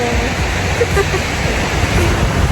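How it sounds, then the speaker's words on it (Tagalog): A waterfall at a sightseeing spot on a New York day tour sends up a steady, dense roar of rushing water, loud and continuous throughout, with a voice speaking faintly beneath it. "Yan o, may falls."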